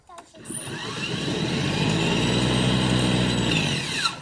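Ryobi 40V battery electric snowblower starting back up, a loud steady electric motor whine with auger whir rising in quickly and running evenly before cutting off.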